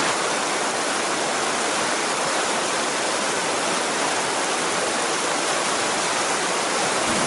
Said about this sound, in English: Time is 10:59 and crossing the bridge over Hopeless Creek.